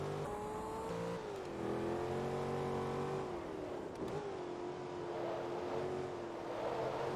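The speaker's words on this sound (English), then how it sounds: "Always a good way to start the race with a good old burnout" A race car in Forza Motorsport 2 doing a burnout at the start of a Big Block Shootout amateur race, its engine held at a steady high drone that dips and rises slightly, with no talk over it.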